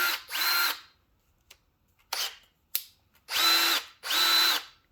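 A cordless power drill fitted with a 10 mm socket spins in several short bursts of whirring, with brief clicks and pauses between them, close and clear with no talk.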